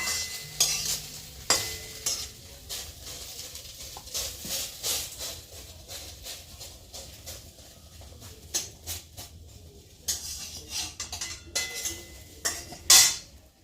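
Vegetables fry in a pan while being stirred, with a low sizzle under repeated scraping and clattering strokes of a utensil, some soft and some sharp, close by.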